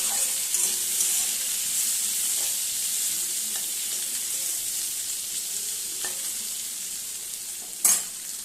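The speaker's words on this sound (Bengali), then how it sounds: "তো এবার পেঁয়াজটা আলুর সাথে একই সাথে একটু ভাজা ভাজা করে নেব।" Onion and potato fry together in mustard oil, giving a steady, close sizzle with light stirring scrapes and a sharper clatter near the end; no one speaks.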